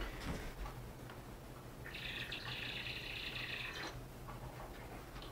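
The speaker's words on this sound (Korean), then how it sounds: "이 커피통은 왜 커피를 마실 때 새소리가 나는 거야?" A coffee canister gives off a faint, steady bird-like chirping squeak for about two seconds midway, set against low room noise with no talking.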